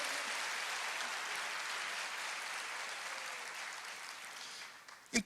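Church congregation applauding, a steady wash of clapping from many hands at moderate distance that tapers off near the end with a couple of knocks.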